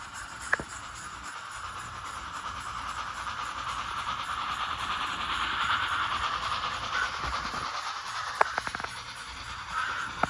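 A Rapido Stirling Single model locomotive running on track with DCC control, heard as a steady mechanical whir and rumble with occasional sharp rail clicks, alone without voices.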